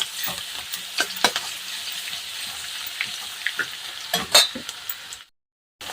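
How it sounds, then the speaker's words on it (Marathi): Crushed garlic frying in hot oil, a continuous crackling sizzle with scattered sharp pops and spoon clinks, then cutting off abruptly into silence near the end. "लसूण सुद्धा एक मिनिट छान असं तळून घ्यायचं आहे"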